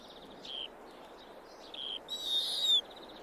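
A snowy owl gives short, high, repeated calls, followed by a longer, harsher shriek, fairly faint against a quiet background.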